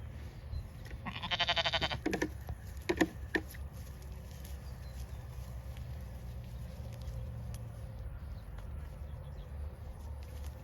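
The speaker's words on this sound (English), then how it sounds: "Moving day for the sheep" Sheep bleat on a dry-grass farm on moving day, a cluster of short calls in the first few seconds, moderately near, over a steady outdoor background.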